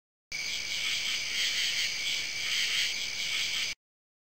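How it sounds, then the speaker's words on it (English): A cricket chirps in a steady, continuous high trill that holds at an even level for about three seconds, heard alone against silence. "Cricket."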